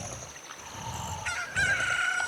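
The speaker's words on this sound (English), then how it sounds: "A chicken hatched from the egg you were incubating." A rooster crows in the video game Zelda: Ocarina of Time, a rising cock-a-doodle-doo call over faint game background sound, moderately loud, with no talking.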